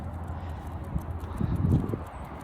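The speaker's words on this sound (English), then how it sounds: "here comes the horses" Horses walk by outdoors, their hooves making a soft, regular clip-clop that grows louder toward the middle as they pass.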